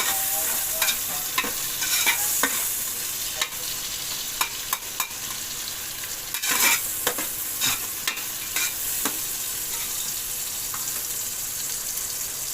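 Chopped onions fry in oil for chicken biryani, a constant close sizzle broken by scattered clicks and scrapes of stirring.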